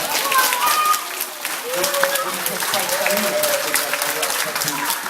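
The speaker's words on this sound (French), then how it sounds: "Alors, nos deux amis, on les applaudit très très fort." Children in an audience clap loudly for two performers at a show, a dense continuous burst of applause with scattered young voices and a few shouts mixed in.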